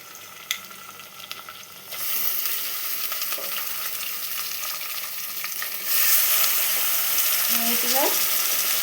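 Chicken pieces, already washed, go into a pan of onions frying golden for a village-style chicken curry with raw masala, and the hiss of sizzling surges louder as they land. Steady frying fills the background, with scattered clinks and stirring.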